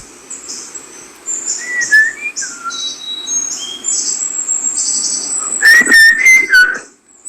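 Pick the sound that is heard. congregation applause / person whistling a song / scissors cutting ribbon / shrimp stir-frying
person whistling a song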